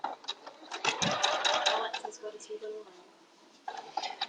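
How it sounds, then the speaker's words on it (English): Sewing machine running in bursts while stitching down the side of a bear paw quilt block, with a speaker talking over the stitching and brief pauses between runs. "And we'll just stitch down this side quickly,"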